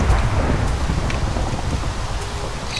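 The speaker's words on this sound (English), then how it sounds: "Storm, man." Minecraft thunderstorm with dense, steady rain pouring throughout and low rumbling thunder underneath, loud and continuous with no talking.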